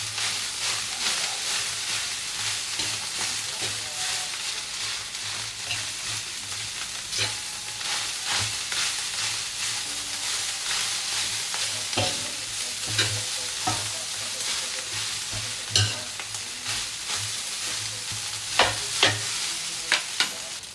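Rice is stir-fried in a wok, likely leftover rice as fried rice, with a steady loud sizzle broken by scraping and clattering spatula strokes that grow sharper toward the end; no one speaks.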